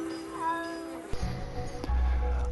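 A cat in the video game Stray gives a drawn-out, wavering meow, close and clear, followed by a low purring rumble and soft game ambience.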